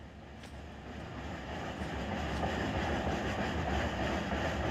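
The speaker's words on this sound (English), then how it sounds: "Train's already here almost." A CSX train arriving in the Run8 train simulator game at a Rice Yard setting, a steady broad rumble that swells slightly as it draws nearer, with no voices.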